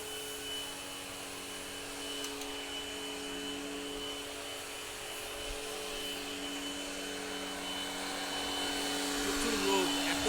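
A cleaning machine washes the rooftop of a hotel in Maniktala, giving a steady, loud whirring drone with a constant hum that runs without a break and swells slightly near the end.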